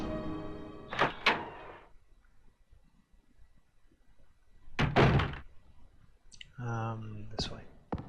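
A door opens in the PS1 game Resident Evil 2, heard as two short, sharp mechanical clunks, then a louder thunk and a creaking swing, with a voice talking briefly in between.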